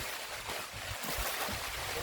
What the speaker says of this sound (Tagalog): Tinira kami ng ulan, no?